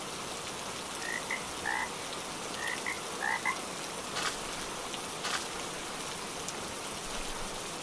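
Rain falls during a monsoon day in a Bengali cartoon, a steady soft hiss of drops running throughout, with frogs croaking in short clustered bursts over it.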